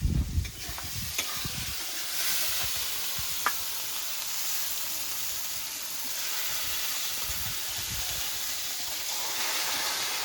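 Yogurt-marinated chicken sizzles and hisses steadily in a hot pan, a continuous close frying crackle with a few louder stirring knocks near the start and no talk.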